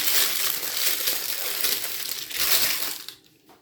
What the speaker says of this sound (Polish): Odwijam papier